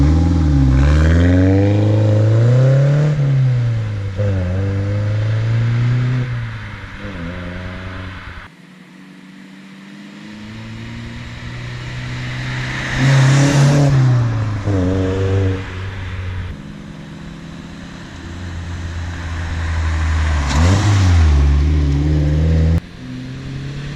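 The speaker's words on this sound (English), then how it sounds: "we're just going to do some flyby shots of my car, so then you can hear the exhaust" A BMW 118i E88 convertible fitted with a Remus exhaust makes repeated flybys, its engine rising and falling with revving sweeps as it approaches and passes, with quieter gaps between runs and no talk.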